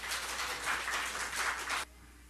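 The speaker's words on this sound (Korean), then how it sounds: "할렐루야, 우리 하나님께 박수 올려드려요" A church congregation claps during a Sunday sermon on fasting: a brief, lively burst of many hands that stops abruptly.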